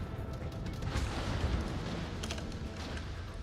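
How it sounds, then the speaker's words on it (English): Warships trading fire in a naval combat video game, with a dense, continuous wash of booming cannon shots and explosions layered close together at steady loudness, no talking. "Look at all the explosions."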